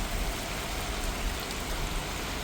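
Steady rain falling, a dense even patter with no breaks, fairly close and moderately loud, no voices.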